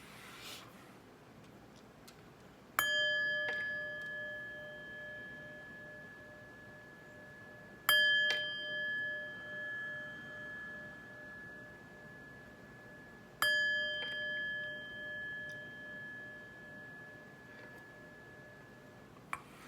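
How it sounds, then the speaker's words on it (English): Three bright chime strikes, evenly spaced about five seconds apart, each ringing out with a clear sustained tone that slowly decays, heard alone against a quiet background. "But first, let's chime."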